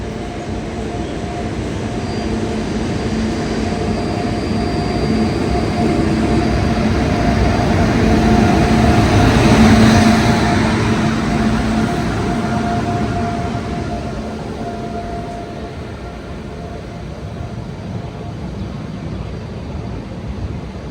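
The Mysuru–Talguppa Express pulls into a station, a deep rolling rumble of wheels and carriages that swells to a loud peak midway and then slowly fades, with faint steady tones above it.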